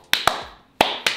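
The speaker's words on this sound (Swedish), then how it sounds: "Jag klappar för henne alltså." Four sharp, close hand claps in two quick pairs, each a crisp slap with a short ringing tail and brief silence between the pairs.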